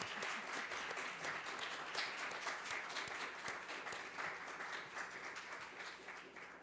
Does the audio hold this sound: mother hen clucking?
no